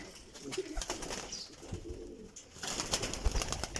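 Pigeons coo repeatedly from nearby roosts above, a steady low warbling chorus with scattered wing flutters and shuffling, growing busier and louder toward the end.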